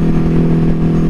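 A 2022 Ducati HyperMotard 950 SP with an aftermarket exhaust revs loudly and up close, its steady engine drone holding strong throughout the short burst with no talking over it.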